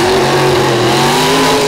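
Big Chevrolet monster truck at a monster truck show, engine roaring loud and steady with a sustained revving drone, no talk over it.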